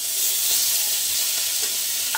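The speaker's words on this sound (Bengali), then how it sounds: "এদিকে মাছ ভাজা হয়ে যাচ্ছে" Fish sizzling in hot oil in a home kitchen pan, a continuous close crackle and hiss with a few sharper pops near the end, no voices.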